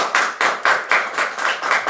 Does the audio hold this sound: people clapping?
yes